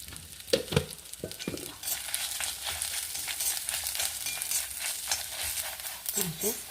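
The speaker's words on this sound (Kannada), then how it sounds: "ಸಾಸಿವೆ ಹುಟ್ತಾ ಇತ್ತಲ್ಲ ಮಸಾಲೆ ಹುರಿತಾಳೆ" Mustard seeds and lentils splutter and sizzle in hot oil for a pumpkin peel and seed chutney, a bright, close hiss with a few louder knocks and scrapes of stirring near the start and end.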